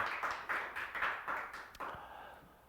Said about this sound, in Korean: 우리 아이들 박수 한번 해주세요 오늘